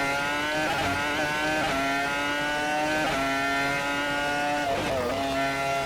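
The Renault R25 Formula One car engine in the VRC racing simulator gives a continuous high-pitched, loud howl, with pitch dips and rises at each of several quick gear changes, heard alone.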